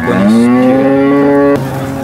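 A single cow at the Sangola cattle market gives one long, loud, rising moo close by, ending abruptly, with faint market background after it and no speech.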